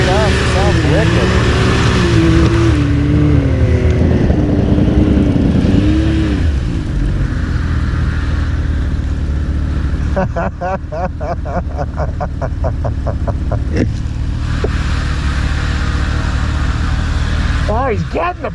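A car engine revs hard and accelerates, its rising and falling pitch sweeping through a loud, steady roar, with voices talking over it throughout.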